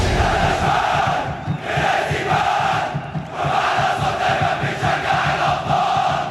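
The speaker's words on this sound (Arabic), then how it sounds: "سامع صوت الجماهير" A large crowd of football supporters roars and chants continuously, a dense, steady wall of cheering with swells and dips, no distinct voices standing out.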